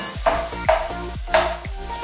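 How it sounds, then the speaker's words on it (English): Onions frying in a warm pan are stirred, a steady sizzle broken by about four sharp scraping strokes of a utensil against the pan, close and fairly loud with no talk. "I'm stirring the onions a little bit."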